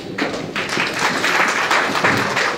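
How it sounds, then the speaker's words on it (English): An audience at a fundraising gathering breaks into sustained applause, a dense wash of clapping from many hands that continues throughout. "please give a big applause to organization"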